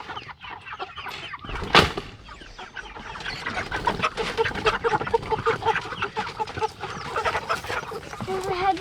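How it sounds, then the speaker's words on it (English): Chickens cluck around an outdoor garden, a steady scatter of short calls throughout with one sharper squawk near the start, fairly close and moderately loud amid background rustle. "so I'm out here by the chickens"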